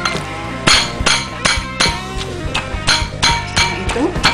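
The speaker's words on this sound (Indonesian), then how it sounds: "Setelah semua bumbu halus, kita tumbuk kasar buah tomat" Tomato and ginger are pounded coarsely in a mortar while making beef rendang, giving loud, regular thuds with a hard clinking ring, about two strikes per second, close up.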